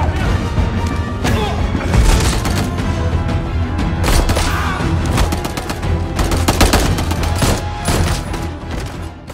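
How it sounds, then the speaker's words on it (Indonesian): Heavy gunfire from an action-film attack scene, where armed men storm a family: dense machine-gun bursts and single shots crackle loudly and almost without pause, with crashes mixed in. "satu kelompok bersenjata masuk dan langsung menyerang keluarga Luke serta orang-orang di sana"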